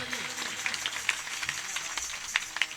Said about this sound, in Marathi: एकदा जोरात टाळी वाजा त्यांच्यासाठी.